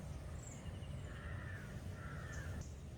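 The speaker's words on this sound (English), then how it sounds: "There's a bird." A crow caws faintly in the distance, two short harsh calls rising from a steady outdoor wash of background noise in Kerala.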